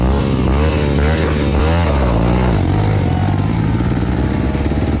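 A motocross bike's engine pulls away and climbs in pitch as it accelerates, loud and close, with a rough, buzzing drone that holds steady afterward.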